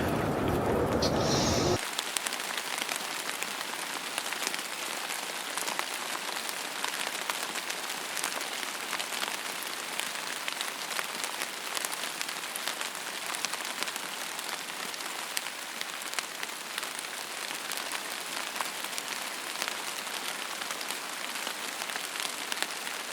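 Tropical rain on a Caribbean excursion falls steadily in a dense, even patter that keeps going without a break, after a short loud noise at the very start.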